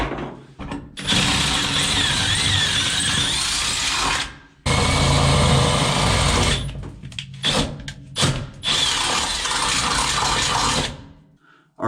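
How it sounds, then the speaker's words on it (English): A power drill with a standard bit whirs loudly in long bursts, drilling out holes during a vehicle build, stopping and restarting several times with short pauses between runs. "Now let's grab a normal drill bit and drill those out."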